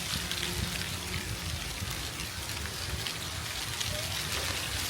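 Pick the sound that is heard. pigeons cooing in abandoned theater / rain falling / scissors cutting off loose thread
rain falling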